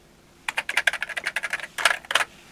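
Keys clatter on an Atari 520STm computer keyboard in a quick run of about fifteen crisp, close strokes, with a brief pause before a few heavier final presses, and no voices.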